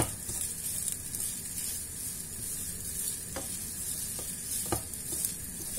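Chicken liver and olive stuffing is stirred in a sizzling frying pan, a steady hiss of frying with a few sharp scraping clicks of the spoon, close and alone.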